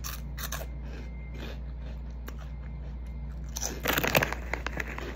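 Hot garlic shrimp chips crunched and chewed up close, a few soft crisp bites early on, then louder crackling crunches toward the end over a quiet, steady background hum.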